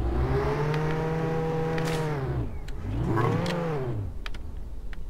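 Car engine in the video game Roblox revving as the car drives out of a garage, two rising and falling whines with strong harmonics, loud and close, followed by quieter clicks.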